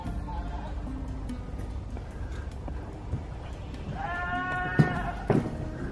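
A goat in an abandoned ghost town gives a single wavering bleat partway through, heard fairly close over quiet outdoor ambience with light rustling and a few small knocks.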